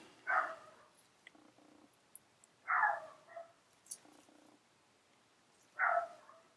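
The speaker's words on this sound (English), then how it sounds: "You might hear my dog in the background too, Chico." A dog barks three times in the background, single spaced-out woofs about every two to three seconds, with quiet rustling between.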